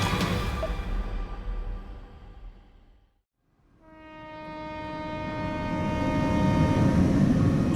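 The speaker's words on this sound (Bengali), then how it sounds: "সায়ন দেখলো ট্রেনটা গন্তব্য স্টেশনে পৌঁছে গিয়েছে।" A train pulls into a station: loud rumbling carriages fade to a brief lull, then a long horn-like tone swells with rising rail noise, close and full, with no voices.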